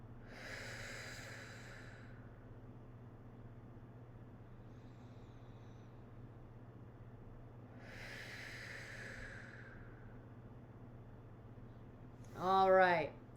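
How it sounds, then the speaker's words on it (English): Two slow, deep breaths during a home fitness workout, each a soft airy rush lasting about two seconds and spaced well apart, followed by a brief louder vocal burst at the end. "let's just take 2 deep breaths"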